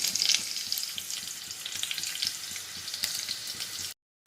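Onion dropped into a sizzling tadka of grated garlic and curry leaves in hot oil, for a spicy moong dal, crackles loudly and continuously up close, then cuts off abruptly near the end; no one speaks.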